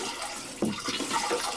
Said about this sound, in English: To place water into the bowl, the lever must be turned to the left. Water can then be pumped in.